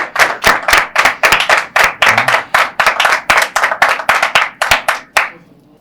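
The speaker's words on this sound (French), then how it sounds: "Applaudissez encore." A studio audience gives rhythmic clapping to a singer on a Saturday-night French TV variety show, loud, close and in synchronized beats that stop abruptly near the end.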